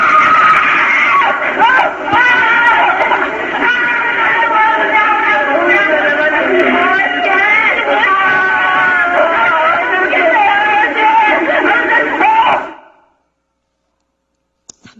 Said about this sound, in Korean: 그 몇 시간 동안 울고 또 울면서 질렀던 그 비명의 소리인데요